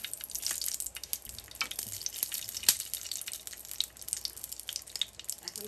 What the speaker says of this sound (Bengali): দিয়ে এখানে কয়েকটা শুকনো মরিচ আমি একটু হালকা তেলের মধ্যে ভেজে নেব